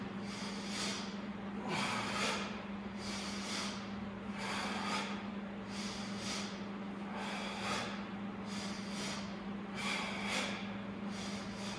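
Steady rhythmic breathing during a strength and core workout, a regular series of about a dozen breathy exhale pulses over a constant background hum, with no talk.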